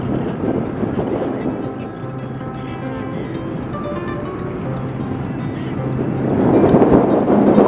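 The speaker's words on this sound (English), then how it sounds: "the wind's blowing at me and stopping me go down the hill" Wind buffeting a motorbike rider on a hill during a touring ride through the Scottish Highlands, a steady roaring rush with low engine hum underneath, swelling louder toward the end, no talking.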